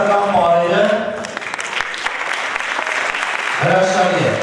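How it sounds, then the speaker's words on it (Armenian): An audience at an international choreography festival claps in a sustained burst of applause, with a person's voice speaking over the start and the end. "Եկեք ծափերով հասկանանք"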